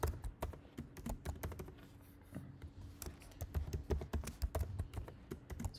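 Rapid irregular keystrokes on a computer keyboard while a password is entered in a Django web-development setup, a close, dense clatter of taps with brief pauses.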